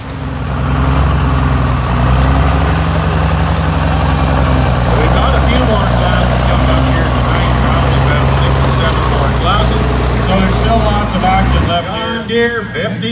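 Two heavy diesel tractor engines rumble steadily at idle at a tractor pull, a deep low throb close by, with faint voices underneath, then the rumble cuts out near the end.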